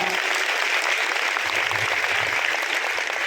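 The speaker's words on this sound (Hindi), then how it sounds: "मैं उनके लिए चाहूंगा एक बार जोरदार तालियां" Audience applause at a women's college talent award ceremony in India, as a principal is welcomed: dense, steady clapping from a crowd, loud and continuous throughout with no let-up.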